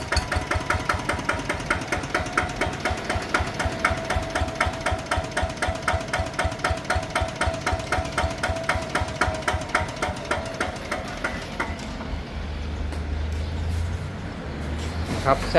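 A small Kubota ZT100 diesel engine on a walk-behind tractor runs steadily nearby with a rapid, regular knocking thump, then the rhythm loosens and fades toward the end.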